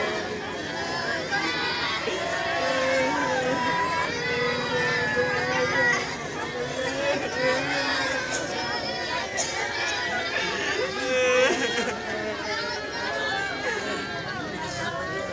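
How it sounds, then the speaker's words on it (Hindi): A large crowd gathered in a village makes continuous murmuring babble from many voices nearby, with occasional louder calls and shouts rising out of the general hubbub. "यहाँ पर इतनी भीड़ है, इतनी संख्या में भीड़ है कि आप देखिए किस तरह से यहाँ पर भीड़ इकट्ठी हुई है"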